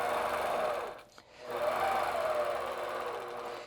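A longarm quilting machine stitches in the ditch in stitch-regulated mode, a close, continuous mechanical whir that dips to a short stop near the middle before resuming at steady volume.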